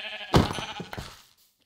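A sheep in the Minecraft video game gives a single loud, close bleat with a wavering, trailing tone that fades out, heard alone without talk.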